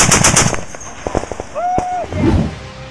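Rapid machine-gun bursts from a video game tank armed with six guns, loud and close, with sharp repeated shots at the start and scattered bangs and an electronic whine later.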